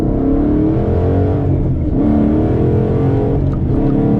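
Car accelerating hard in a quick pull, its engine droning loud and close with rising pitch sweeps as it climbs through the gears, the shifts marked by brief dips in tone and no talk.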